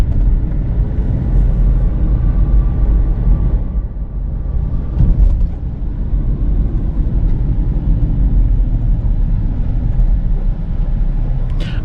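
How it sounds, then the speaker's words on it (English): Cadillac ATS 2.0 turbo engine pulling under light acceleration, a steady low rumble heard from inside the cabin with a faint whistle on top, continuous throughout with a brief dip midway. "I don't know if you can hear that turbo noise or not"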